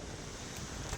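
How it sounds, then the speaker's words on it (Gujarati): Strong wind blows outdoors in a steady, dense rush that buffets the microphone for the full second, with no voices present. "જો કેટલો પવન છે"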